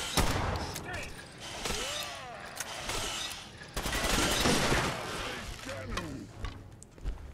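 Gunfire during a robot fight in Fallout 4, with scattered shots, a dense volley in the middle and mechanical clanks, mixed with voices talking throughout.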